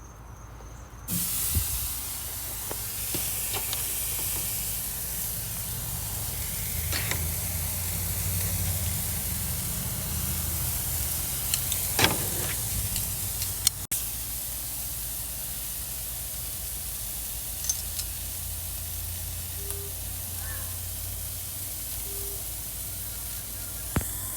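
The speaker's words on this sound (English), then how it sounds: "I'm gonna sear these babies hot and fast, and then I'm gonna move them over on indirect heat." Pork chops and steak searing on a hot charcoal grill give a loud, constant close-up hiss and sizzle, broken by a few sharp pops and crackles, with no talking.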